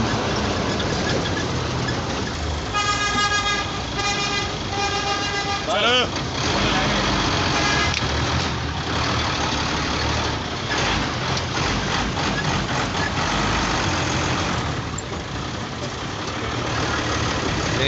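A vehicle drives through busy traffic past a junction in Faisalabad, with a constant engine and road rumble, several car horns tooting in the middle, and a person talking over the noise.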